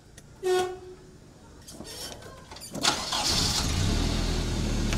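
A brief horn toot, then a driving-school car engine cranks and catches, settling into a steady, low idling rumble nearby.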